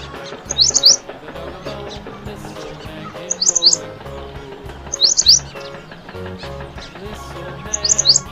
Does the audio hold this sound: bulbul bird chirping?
yes